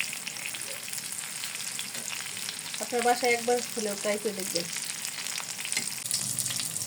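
Egg and pointed gourd sizzle steadily as they fry in a pan, a continuous crackling hiss that runs throughout, with someone speaking briefly over it midway.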